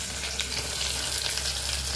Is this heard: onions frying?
yes